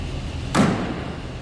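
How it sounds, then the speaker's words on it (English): A single solid slam as the door shuts on a 1940 Buick Super five-passenger sport coupe, one short heavy thud standing out close and loud above a quiet background. "Door closes nicely."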